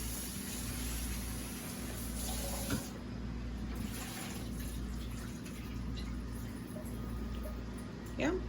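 Cold tap water running steadily over butter in a kitchen, a constant soft rushing hiss with a couple of brief splashy bumps, fairly faint and unbroken throughout.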